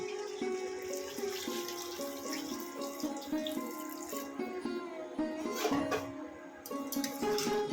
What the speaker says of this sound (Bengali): আমি এবার এই কাপ মেপে আমি 2 কাপ জল গরম করে নিয়েছি, সেই গরম জলটা এর মধ্যে দিয়ে দিচ্ছি।